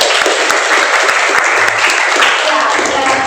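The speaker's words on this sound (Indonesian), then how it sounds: "Oke, kasih tepuk tangan." A midwifery academy class breaks into loud, dense applause during a lesson, a continuous roar of clapping with some voices mixed in beneath it.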